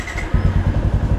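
A Yamaha Exciter or Honda Winner motorcycle with a modified exhaust fires up and settles into a loud, close, rhythmic low thumping idle, steady pulses beating evenly.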